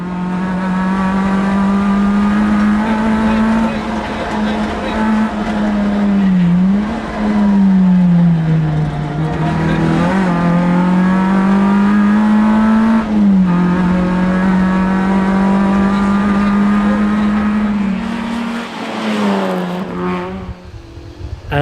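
A little Peugeot rally car on the Tour of Mull rally revs hard and loudly throughout, its engine note climbing and dropping through gear changes and lifts, close and continuous.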